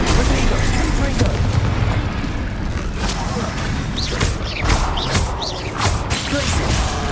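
Confringo spell explosions in the Hogwarts video game sound as dense, continuous blasts and crashing booms layered with bright magical whooshes, loud throughout, with voices heard amid the effects.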